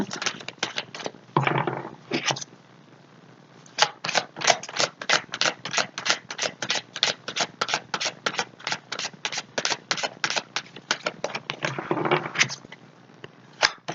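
Oracle cards being shuffled by hand in a quiet room, a rapid run of crisp, papery riffles and flicks that continues steadily with brief pauses, close and fairly loud, with no voices.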